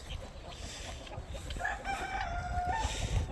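Hundreds of chickens settling into their coop at the end of the day, a dense, close chorus of overlapping clucks and murmurs with a drawn-out rooster-like call rising above the flock.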